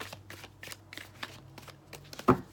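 Tarot cards being shuffled by hand in short, soft riffling bursts repeated at a steady pace, ending with one sharper, louder snap of the deck; close and fairly quiet, with no talking.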